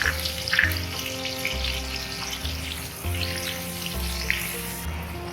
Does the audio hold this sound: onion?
yes